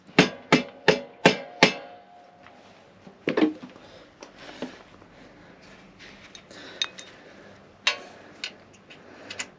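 Five sharp, evenly spaced hammer strikes ring out on a metal part of a Ducati Monster motorcycle, followed by scattered lighter taps and clinks at irregular intervals.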